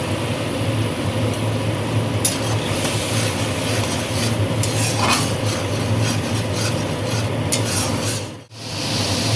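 Spices with turmeric and salt frying in oil in a pan, stirred and scraped steadily, giving a continuous close rasping sizzle with occasional brief scrapes and one short pause near the end.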